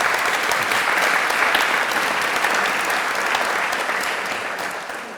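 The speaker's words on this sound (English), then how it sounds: "This applause is also for the man who gave it to you." An audience claps in sustained, even applause at a public talk with the Secretary of the Smithsonian Institution. The clapping is thick and continuous, then gradually tapers off near the end.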